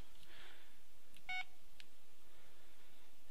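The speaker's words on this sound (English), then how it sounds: "a text message." A short electronic text message notification chime sounds once from a phone in a quiet room, brief and moderately faint against a low background hum.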